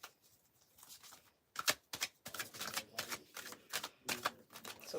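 Tarot cards from a Salsa Burrito deck are shuffled and handled close by, a quiet rustle giving way to rapid papery riffling and snapping bursts in quick succession.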